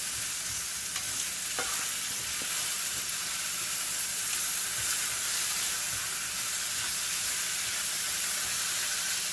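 Potatoes frying with onions and peppers in a pan, giving a steady, even sizzle and hiss that holds alone throughout with a few faint clinks.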